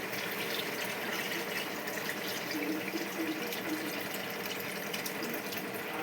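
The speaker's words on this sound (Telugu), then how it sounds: "పులుసు వేస్తున్నాం చూడండి." Tamarind water poured into a cooking pot makes a steady, close rushing pour that holds evenly throughout, with no talk.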